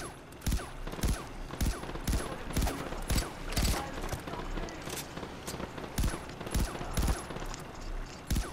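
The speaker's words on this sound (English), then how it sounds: "There's people shooting at you." Repeated gunshots from enemies firing in the Far Cry 4 video game, arriving as sharp bursts in an irregular, spread-out rhythm over steady background ambience.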